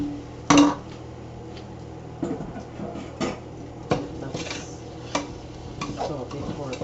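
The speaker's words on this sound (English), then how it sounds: "Saute for a few seconds." Potato being sautéed in curry in a pan, heard as faint sizzling under a series of clinking stirs and scrapes of a utensil against the pan, one sharper knock early on.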